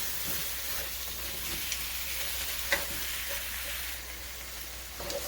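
Sliced zucchini and other vegetables, including mushrooms, leeks and fennel, get stirred in a sizzling pan, a steady frying hiss with occasional soft knocks of the utensil, close and without talk.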